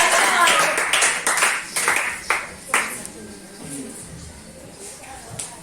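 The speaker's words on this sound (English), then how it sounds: "A round of applause." A small audience at a leadership academy meetup in Lagos gives a brief round of applause, loud sparse claps close by that thin out into a few isolated claps and shuffling.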